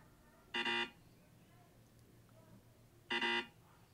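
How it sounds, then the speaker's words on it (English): A short error notification tone sounds twice a few seconds apart, each burst a bright buzzy electronic blip over a quiet background. "There are plenty of royalty-free notification sound effects."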